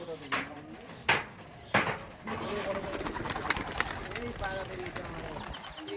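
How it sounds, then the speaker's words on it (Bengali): Pigeons coo and flap their wings in a few sharp bursts as they take off, with people's voices and outdoor noise behind. "দেখুন পায়রা এখনই ছাড়া হলো"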